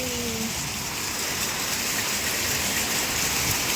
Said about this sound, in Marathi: कसला जोराचा पाऊस आला